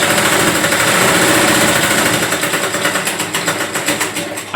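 A sewing machine stitches a blouse strip from the inside, a loud, fast, steady mechanical whir of rapid needle strokes that slows toward the end into distinct rhythmic pulses, close up and alone.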